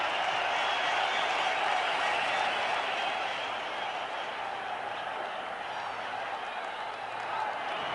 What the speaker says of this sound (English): This crowd roars.